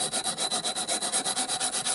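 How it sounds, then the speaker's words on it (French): An old file rasped back and forth over the edge of a pot in quick, even strokes, about eight per second, close and clear with no voices. "limer le bord de votre pot pour faire mieux tenir la colle"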